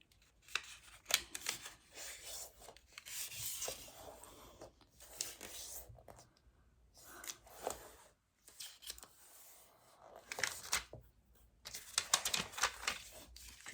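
A square of origami paper is folded in half into a triangle for a paper squirrel, making close, quiet crinkles and rustles in short bursts separated by pauses.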